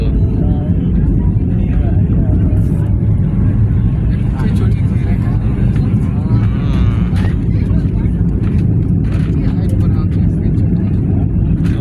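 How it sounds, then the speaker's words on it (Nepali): A loud, continuous engine roar fills the cabin of an airplane taking off from Kathmandu, heavy and constant, with a voice talking faintly underneath it. "अब ल त केटा फाइनली प्लेन उड्यो है काठमाडौँ"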